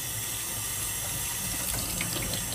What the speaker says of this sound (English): You're gonna dump your water bowl out, give it a quick rinse, and put that back on the counter.